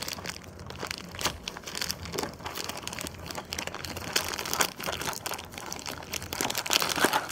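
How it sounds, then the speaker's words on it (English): Plastic bag of Starburst jelly beans being cut open, giving a steady crinkling and rustling of plastic with small crunchy bursts, close and fairly loud throughout, without any talking. "let me just cut the bag again"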